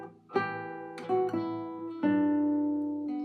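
A short fingerpicked guitar phrase of a few clear, ringing notes, each sustaining and fading before the next, played alone.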